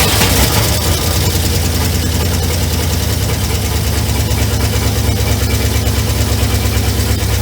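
A Ford Mustang Mach 1 engine idles loud and close, with a steady, rough low rumble and a faint knocking pulse throughout, and no talk.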